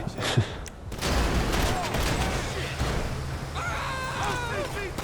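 Guns fire in GTA 5 Online on the PS5 next-gen version, with bursts of rapid gunfire mixed with game noise and a few sharper reports, all under a player talking over the action.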